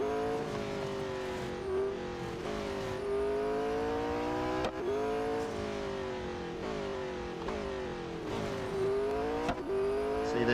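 A car engine revs steadily in the Real Racing 3 racing game, with rising and falling pitch sweeps through gear changes and continuous loud engine drone across the whole stretch.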